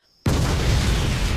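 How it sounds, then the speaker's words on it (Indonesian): A sudden, massive anime explosion bursts in after a brief quiet and roars on as a dense, sustained rumble filling the whole moment. "Di saat bersamaan terjadi ledakan."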